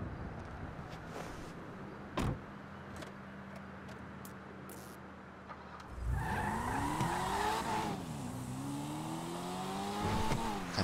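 A car in GTA 5 starting up and pulling away, its engine rising and falling in pitch as it accelerates and shifts, after a quiet stretch broken by a few sharp clicks and a thud.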